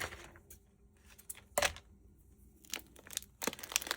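Ribbon for homemade Valentine gift wrapping being cut, giving a few brief crisp snips and rustles, with one louder sharp cut near the middle and a cluster toward the end, close by with no talking.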